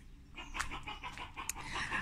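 A dog near chickens pants in quick, breathy rhythmic bursts, close and moderately loud, with no talking over it.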